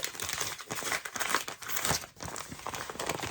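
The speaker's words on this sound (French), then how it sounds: "Alors, je vais ouvrir ton courrier." Paper crinkles and crumples as an envelope is handled and torn open, a close, busy stream of rustling bursts and short rips without speech.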